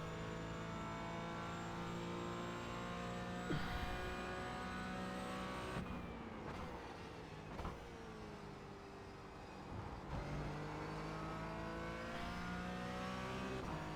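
A race car cornering at Interlagos in a racing game, its engine a steady sustained drone with shifting pitch throughout, with brief bumps and changes in tone around the middle as it works through the turn.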